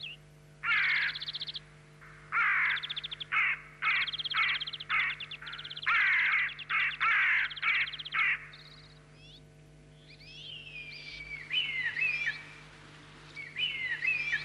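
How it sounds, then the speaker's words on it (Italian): Crows nesting nearby caw harshly in repeated bursts while harassing red kites, their calls loud and close over a steady low hum, with more scattered, thinner calls toward the end. "le cornacchie che nidificano nei dintorni e che hanno la fastidiosa abitudine di perseguitare tutti gli uccelli rapaci"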